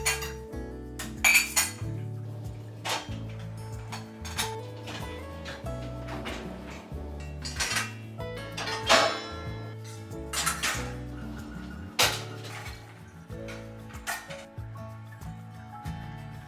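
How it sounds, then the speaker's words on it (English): Dirty plates, pots and cutlery clink and clatter as they are loaded into a dishwasher in a home kitchen. Sharp, irregular knocks of ceramic and metal come up close, with short pauses between bursts. "I have put last night's and this morning's dirty dishes in the dishwasher."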